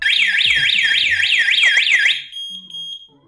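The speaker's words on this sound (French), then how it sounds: "déclencher la sirène puisque c'est ce qu'on a mis dans le scénario" A loud wailing siren from an Ajax wireless alarm system cycles rapidly up and down about eight times, then cuts off abruptly, leaving a faint high electronic tone and quiet chirps.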